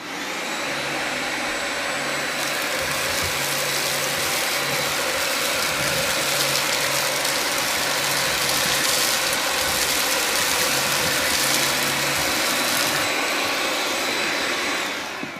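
Electrolux Ergo Rapido and Symphony stick vacuums suck up a heavy floor mix of sand, aquarium rocks and screws, producing a loud, steady whirring motor roar that runs unbroken, with no talking.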